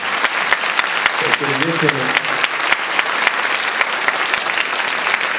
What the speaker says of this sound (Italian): io farò un applauso a Libera